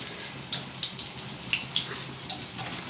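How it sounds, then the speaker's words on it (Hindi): Rajasthani mirchi vada, chili fritters, frying in hot oil: a steady close sizzle scattered with sharp crackles and irregular pops, with no voices over it. "ये देखें, अच्छी तरीके से फ्राई हो रहे हैं"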